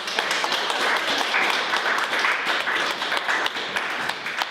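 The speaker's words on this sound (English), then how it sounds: "let's have a round of applause for Mel" An audience at a talk on cookery and lifestyle claps together in a sustained, fairly close round of applause with dense, crackling hand claps and no talk over it.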